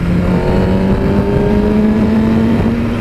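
A 2017 Suzuki GSX-R1000 motorcycle engine pulls hard under acceleration, a loud, steady, high-pitched drone rising slowly in pitch throughout, heard close with wind rush and no talking.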